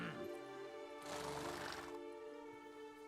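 A horse in the video game The Witcher 3: Wild Hunt, Blood and Wine, gives a loud, drawn-out whinny over a steady low hum, the neigh rising and shaking before trailing off.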